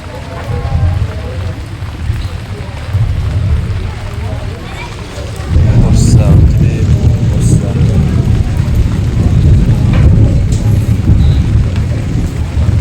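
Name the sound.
heavy rain with thunder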